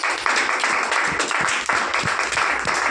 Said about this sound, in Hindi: इनके लिए एक बार जोरदार तालियां